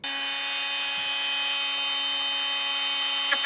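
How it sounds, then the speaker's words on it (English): Dremel tool trimming and enlarging a hole for a Balboa hot tub keypad: a steady, high-pitched whine running continuously at close range, with a faint brief grinding change near the end and no talking. "Usually I just use a Dremel tool, and we'll just kind of trim around the hole and make it just a little bit bigger."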